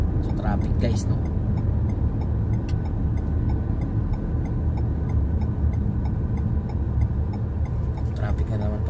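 Road traffic crawls near the airport in Riyadh, a steady dense rumble of car engines heard from inside a vehicle, with people talking over the low drone.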